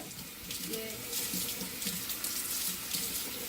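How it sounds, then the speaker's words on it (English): Steady running water pours continuously from a tap as reconstructive pre-wash conditioner for damaged, dry, over-processed hair is rinsed out at a sink, a broad close hiss with no talk. "I just washed out the reconstructive pre-wash conditioner. So I rinsed that out"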